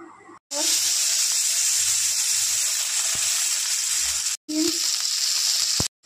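Egg and olive oil sizzle loudly in a kadai over a gas flame on a home stove. The hissing fry runs steady and close, with two short silent breaks.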